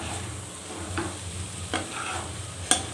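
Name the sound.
prawn fry frying and being stirred in a pan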